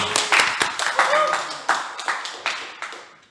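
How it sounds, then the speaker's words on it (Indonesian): An audience claps hands in a steady series of sharp bursts at a talk event, with the applause fading toward the end. "Tepuk tangan."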